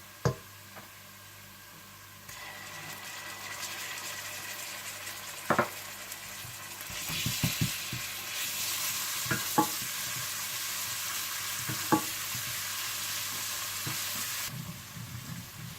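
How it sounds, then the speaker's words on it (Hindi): Onion with ginger and garlic frying in a pan for aloo gobi, a soft steady sizzle with occasional stirring scrapes and light utensil taps, close and fairly quiet. "और जैसे ही प्याज हल्के से गोल्डन ब्राउन होने लगे तो आप इसमें अदरक लहसुन डालकर भून लें।"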